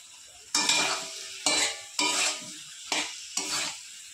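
Chopped tomato and spices being stirred in a hot pan: five distinct scraping stirs, each bursting into a bright sizzle that fades before the next, with no talking.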